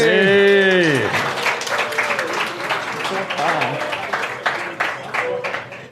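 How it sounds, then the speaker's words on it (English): A studio audience at a talk show bursts into lively clapping that continues for several seconds. A loud blaring tone and voices ring out at the start, then the clapping runs on its own. "Look at it, all disingenuous the way they're clapping for you."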